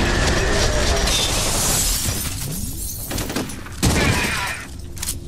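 Grenade explosion in the video game F.E.A.R., a loud shattering blast with debris and chaotic gunfire-like crackle, followed by a second burst of noise moments later.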